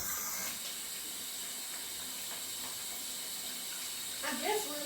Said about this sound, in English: I'm just rinsing it off again because it's been sitting, and you know pasta gets stuck together